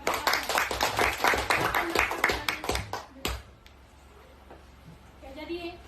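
Classroom applause for a presenting group, a burst of many hands clapping for about three seconds that stops abruptly, followed by quieter room sound and faint voices.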